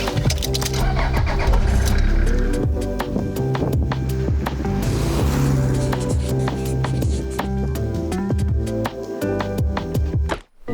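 A 1994 Toyota HiAce campervan engine cranks with rapid clattering bursts, catches, and settles into a loud, close, rough idle, ending in a brief drop near the finish.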